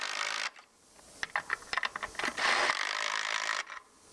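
Ratchet tightening bolts down on farm equipment, a run of quick metallic clicks and short bursts close by, set against a steady outdoor hiss.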